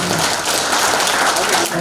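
An audience at a Korean forum and training session applauds in dense, continuous clapping that fills the hall, with a voice faintly audible underneath.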